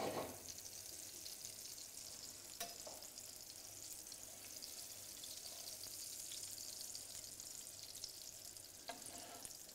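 Mozzarella burgers fry in a pan with a steady, soft crackling sizzle and a few light spatula clicks, close but fairly quiet throughout.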